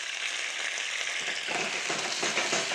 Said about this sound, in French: Alors maintenant, on va déglacer pour pouvoir décoller